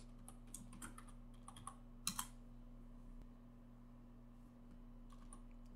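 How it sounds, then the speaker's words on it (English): Typing on a computer keyboard, quiet irregular key clicks in short bursts with a sharper cluster of taps midway, over a low steady electrical hum. "we're going to type that same thing in a second time"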